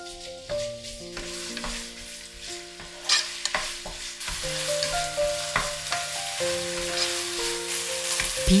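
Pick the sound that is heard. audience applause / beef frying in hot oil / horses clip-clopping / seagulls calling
beef frying in hot oil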